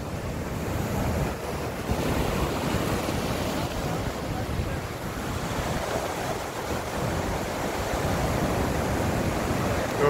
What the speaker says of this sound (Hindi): ये देखें पानी की लहर देखें आप